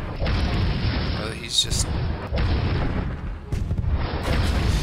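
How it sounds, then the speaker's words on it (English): Repeated heavy booms from Striker missiles exploding in the tank battle game Tanki, loud rumbling blasts recurring throughout with someone speaking over them. "The Striker missiles just do way too much damage."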